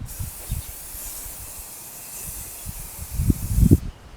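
Aerosol rust-freezing spray hissing steadily onto medieval armour, a continuous close spray with a louder, rougher burst near the end before it cuts off.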